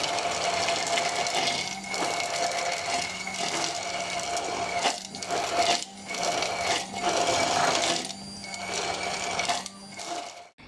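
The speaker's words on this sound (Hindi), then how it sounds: "आपने इसको इतनी अच्छी तरह से ब्लेंड कर लेना है कि इसके जो सीड्स हैं वो भी अच्छी तरह से इसमें ब्लेंड हो जाएं" An electric blender whirs loudly, steadily blending falsa fruit and its seeds into juice, its motor note dipping briefly a few times as the load shifts.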